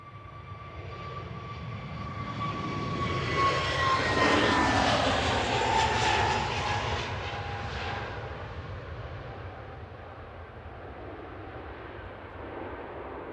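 A British Airways Airbus A321neo jet on the Heathrow shuttle at Manchester Airport passes with a steady roar, swelling to a peak midway with whining engine tones sliding down in pitch, then easing off as it recedes.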